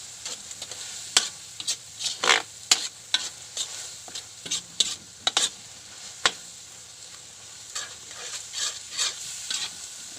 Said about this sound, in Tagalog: Tapos halo.